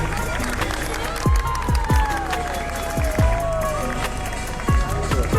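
A crowd claps and cheers for a landing drone show at Onam celebrations in Thiruvananthapuram. Steady applause and crowd noise are joined by repeated falling whistle-like chirps and a faint sustained tone.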